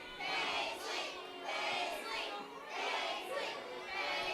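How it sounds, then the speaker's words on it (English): Children at a kids' church event cheer on a player during a timed game, chanting a name together in four rhythmic swells of shouting, lively and roomy with a steady beat. "Let's cheer on Paisley"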